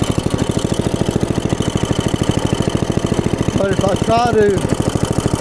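A small engine runs steadily just after starting, smoking, its rapid even chugging pulses loud and close while someone speaks over it briefly.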